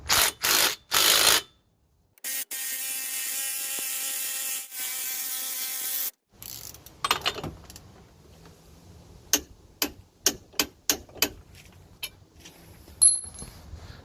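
A 34 mm CV axle nut is tightened on a Buick Allure/Lucerne, with a few loud bursts of a power tool on the nut followed by a string of sharp, separate clicks and ticks. The sounds come close up, with no talking.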